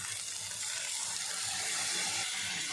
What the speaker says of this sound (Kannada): ಈ ಟೈಮಲ್ಲಿ ಸ್ವಲ್ಪ ನೀರು ಹಾಕ್ಕೋಬೇಕು.